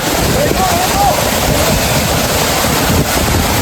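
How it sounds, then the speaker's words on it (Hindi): Heavy spray and rushing water from the Vasudhara waterfall in Uttarakhand, a loud, continuous broadband roar with wind buffeting the microphone, steady throughout. "तो आप ये देख सकते हो बहुत ज़्यादा पानी आ रहा है।"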